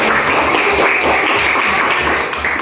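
Steady, loud applause from a class after a student role-play performance, an unbroken wash of many hands clapping throughout.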